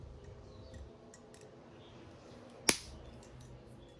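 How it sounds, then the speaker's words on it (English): A single sharp snip from cutting off the excess material while wrapping an Ibis Ripmo AF mountain bike frame for protection. It is one crisp, close click against faint background rustling. "You can simply snip off the excess."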